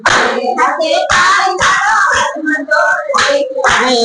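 Rhythmic clapping with both hands keeps time under a chanted devotional group song, with loud voices singing along the whole way.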